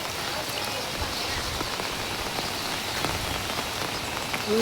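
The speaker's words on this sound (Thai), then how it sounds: "ฝนตกฝนตก" Steady rain patters on surfaces all around at a night market, a dense, even hiss of drops with no pause.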